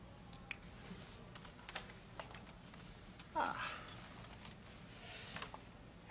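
Typing on an Apple Macintosh computer keyboard produces soft, scattered key clicks in a quiet room, with a brief louder burst midway and faint voices in the background.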